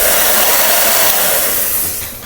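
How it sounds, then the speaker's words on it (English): A working hair dryer blows steadily and loudly at close range, a constant airy whoosh with a motor hum that fades slightly toward the end, with no talking. "a working hairdryer."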